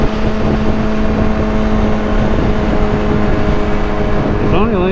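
A vehicle cruising at about 90 on an Arizona highway gives a loud, steady roar of engine and wind rush that holds constant throughout, with a brief tonal warble near the end.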